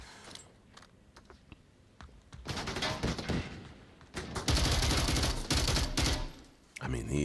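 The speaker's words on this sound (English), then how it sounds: "these rifles are amazingly loud" Rifle gunfire in a competitive VR shooter match, with scattered sharp shots giving way to loud sustained rapid bursts, heard under excited commentary.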